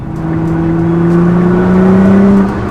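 A Nissan GT-R with a Stage 2 tune accelerates from low RPM in third gear, its loud, close engine drone climbing slowly in pitch before easing off near the end, with no talking.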